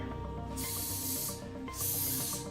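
Two sharp hissing bursts, a mouth imitating an air freshener aerosol spray, sound over continuous background music, each lasting under a second.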